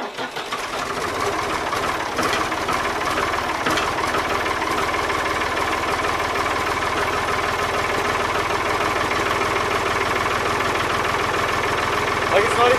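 A Ford 3910 diesel tractor starts in cool weather, then idles steadily and loudly with a rhythmic knocking chug that persists throughout, close by.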